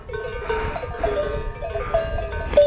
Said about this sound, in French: Et juste à côté j'ai les moutons.